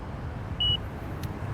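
A single short, high electronic low-battery warning beep from an Inmotion P6 electric unicycle at 9% charge sounds once over steady wind and rolling noise, clear but not loud.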